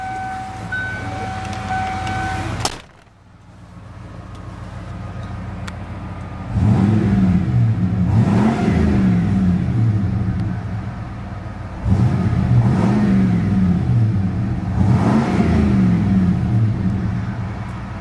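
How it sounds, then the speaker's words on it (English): A 1994 Ford F-150 XLT's fuel-injected 5.0-liter V8 with stock exhaust cranks and starts, settling into a deep rumbling idle, then is revved twice in strong rising and falling blips, loud and close. "That EFI 5-liter V8 already has a fantastic exhaust note stock."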